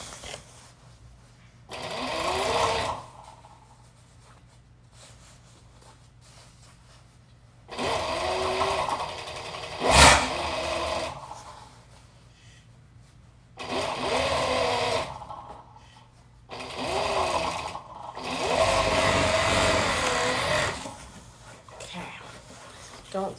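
Sewing machine stitching in several sustained runs separated by quiet gaps, close and steady, with a sharp click partway through and faint speech in the pauses.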